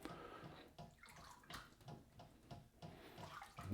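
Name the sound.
water squished out of sausage casing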